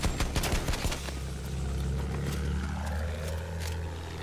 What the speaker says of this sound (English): Bomber behind us.